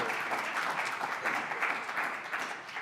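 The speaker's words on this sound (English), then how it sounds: "Let's hear another round of applause for the Native American Series Language of Life episode" Steady, dense applause from a live audience at a PBS Native America season Q&A event in New York, a continuous wash of many hands clapping at moderate level with no break.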